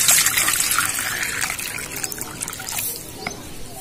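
Water is poured out for birds, a bright close trickling and splashing that runs steadily and tapers slightly over a few seconds.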